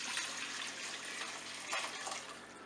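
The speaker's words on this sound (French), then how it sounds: "je vais mettre le bouillon dans un saladier" Broth pours steadily into a mixing bowl with a soft, continuous splashing trickle, quiet and close.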